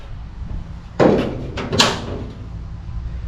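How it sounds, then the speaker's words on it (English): A car door slammed shut during door alignment work on a project car, one loud close metallic thud followed by a second bang and rattle as the door settles. "This door is shutting better"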